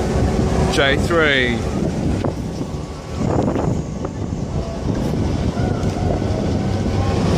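The Flyer service train arrives at Hunter Valley SteamFest with a steady rumble under heavy wind buffeting on the microphone, while people speak briefly nearby.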